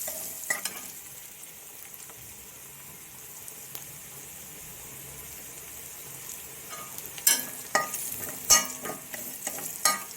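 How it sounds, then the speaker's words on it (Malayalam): Ginger and garlic frying in oil for a prawn perattu, a soft continuous sizzle with occasional stirring scrapes, growing into sharper clatters and crackles toward the end. "ആദ്യം ഇഞ്ചിയും വെളുത്തുള്ളിയും ഇട്ട് കൊടുക്കാം. അതേ എണ്ണയിൽ തന്നെ ഇട്ടാൽ മതി കേട്ടോ."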